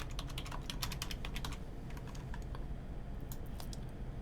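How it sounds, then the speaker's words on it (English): Quiet computer keyboard typing, a brisk burst of keystrokes followed by a few scattered taps over a low steady background hum. "we'll type target point"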